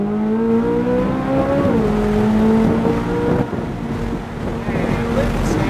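Supercar accelerating hard on a coned driving course, engine note climbing steadily then dropping at a shift and rising again, heard close with wind buffeting and an instructor talking over it.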